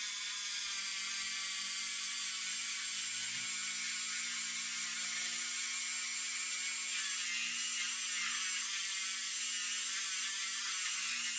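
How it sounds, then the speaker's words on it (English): A polishing wheel buffs metal on a custom AMX with a continuous high, whirring drone that holds steady throughout, loud and close, with faint mechanical overtones and no speech. "this time use a polishing wheel"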